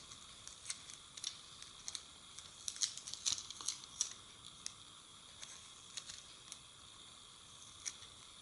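Tape is pulled off and pressed onto a homemade cover plate for an Otis Lexan elevator, giving faint, scattered crinkling and tearing crackles with a few sharper bursts in a quiet room.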